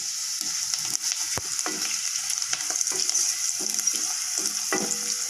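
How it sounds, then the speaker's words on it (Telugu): Onions, green chillies and curry leaves fry in a pan for pudina rice, giving a steady close sizzle with scattered stirring scrapes and small pops throughout, no voices. "కొన్ని మిర్చి, అలాగే ఆనియన్స్, ఇది గోల్డెన్ కలర్ వచ్చేంత వరకు ఫ్రై చేసుకున్నాం"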